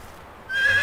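A horse in the medieval farming game Medieval Dynasty lets out a short, loud, high whinny that starts abruptly in the second half and rings on to the end.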